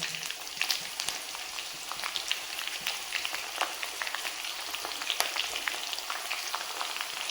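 Onion frying in oil over a low gas flame while making amla hair oil, a dense continuous crackling sizzle with fine popping, steady and close throughout.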